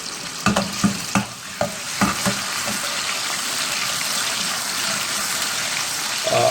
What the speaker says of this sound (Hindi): इसको सौते करना है हमें 2 से 3 मिनट के लिए